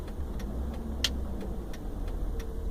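A Mercedes-Benz W221 S320 CDI diesel pulls away gently on cruise control, a low, steady engine drone heard from inside the car, with faint regular ticking over it and no voices.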